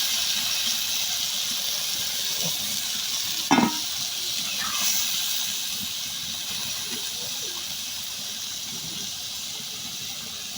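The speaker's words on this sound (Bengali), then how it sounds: "ভাজতেছি আলু পেঁয়াজ" Potatoes and onions fry in a pan, giving a steady, even hiss and sizzle throughout, with one brief clatter of stirring partway through.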